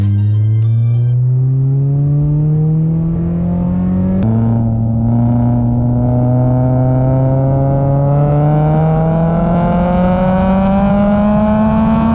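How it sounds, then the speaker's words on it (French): A Honda Prelude VTEC engine revs up close, its pitch climbing steadily with a brief drop partway through before it rises again to a loud, high whine. "on va faire une petite accélération pour que vous puissiez entendre"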